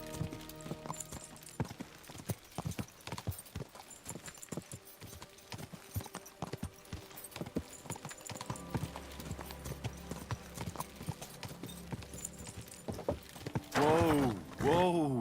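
Horse hooves clip-clop in a steady, brisk rhythm while riding in the medieval game Kingdom Come: Deliverance 2, with a short whinny near the end.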